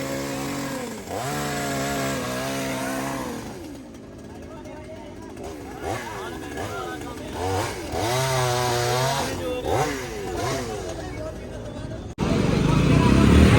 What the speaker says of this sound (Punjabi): ਲਓ ਜੀ ਕਟਰ ਆਪਣੇ ਕੋਲ ਆ ਗਿਆ ਇੰਜਨ ਵਾਲਾ ਕਟਰ